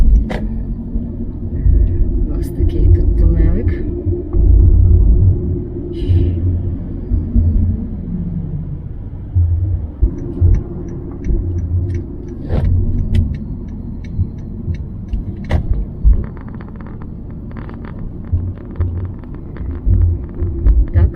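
A car driving through a road tunnel makes a loud, enclosed low rumble of engine and tyres. It swells and eases over about twenty seconds, with a few faint knocks and clicks and no talking.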